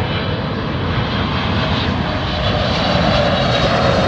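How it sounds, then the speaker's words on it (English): Turkish Airlines airliner on approach to land at Heathrow Airport, its engines giving a loud, steady roar that builds slightly as it passes close by in heavy wind, with no talking. "my big brilliant airplane is coming right in front of me."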